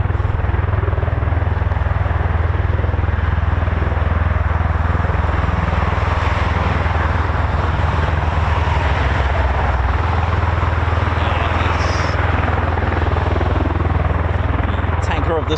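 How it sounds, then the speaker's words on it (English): KC-135 Stratotanker on the move at an air force base, a loud, continuous jet roar with heavy low rumble that stays steady throughout and masks any talk. "on the move is our KC-135"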